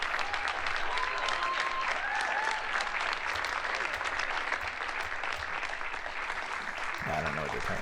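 A political rally crowd claps steadily and loudly, sustained applause filling the whole stretch, with faint voices mixed in and a brief lower sound near the end.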